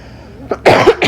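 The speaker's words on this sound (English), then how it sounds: "It was just very a mucusy cough." A wet, mucusy cough from a person ill with Covid-19, heard close up as a couple of chesty bursts after a quiet start.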